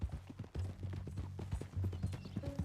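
Horse hooves clip-clop at a steady walking rhythm in the Red Dead Redemption 2 video game, close and moderately loud, with a faint whinny-like tone near the end and no talk.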